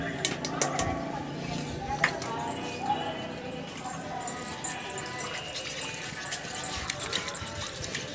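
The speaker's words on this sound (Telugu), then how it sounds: "కలిసేలా కలుపుకోవాలి బాగా" A spoon clinks and scrapes steadily against a bowl as cake powder is stirred into water in a village kitchen, with light, continuous tapping under background noise and some talk.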